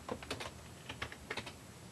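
Keys clatter on a computer keyboard as an email address and password are entered at a school platform's sign-in screen: a few quick bursts of close, crisp keystrokes with short pauses between, no voices.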